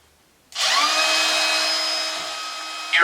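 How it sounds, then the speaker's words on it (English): Compact router fitted with a 1/8 inch radius bit eases the edges of a walnut dining table leg, a steady high-pitched motor whine starting abruptly and holding loud and close throughout, with tonal harmonics and a brief load change near the end. "Here I'm using my compact router with a 1/8 inch radius bit to ease the edge on the outside and inside portions of each leg."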